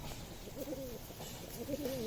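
Fulsiya Madrasi pigeons cooing close by, two soft warbling coos rising and falling over a low, steady background rumble, no talk.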